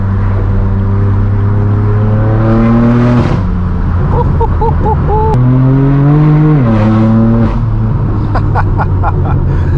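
A loud, raw straight-piped BMW M4 F82 exhaust roars as the engine revs up through the gears, the pitch climbing, dropping at each shift, then climbing again.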